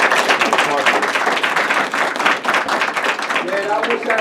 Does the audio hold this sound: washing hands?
no